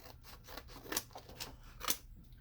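Scissors snipping out a sticker on a silver sheet, a few soft crisp cuts spaced irregularly, close but very quiet.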